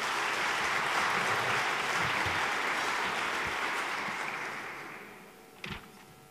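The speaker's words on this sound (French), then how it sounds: "Je vous remercie également de l'applaudir." Sustained applause from an audience at a fundraising dinner, loud at first and gradually fading out toward the end, with a brief louder clap or knock just before it ends.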